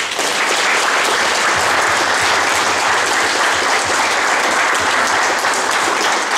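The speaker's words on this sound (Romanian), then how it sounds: "Vă rog foarte mult să-i aplaudăm pentru că dumneavoastră, acești veterani frumoși, merită aplauzele și susținerea noastră." A dense, loud, sustained round of applause from an audience honoring war veterans at a round-table gathering in Dubăsari district, steady throughout with no talk over it.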